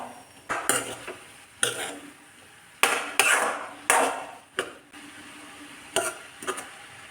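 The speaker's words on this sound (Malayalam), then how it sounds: "ഇനി ഇത് നന്നായിട്ട് ഇളക്കി മിക്സ് ചെയ്യാം." Banana stem being stirred with a ground spice paste in a pan for a Kerala thoran, giving irregular scraping and clattering strokes of the spoon against the pan with short pauses between them, close by and with no voices.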